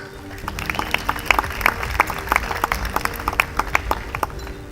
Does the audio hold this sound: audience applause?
yes